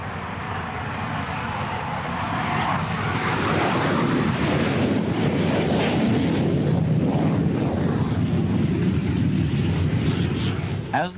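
A Hawker Hunter jet aircraft climbs with a continuous broad roar heard from the cockpit, steady and loud with wind rush, and a voice speaks over it.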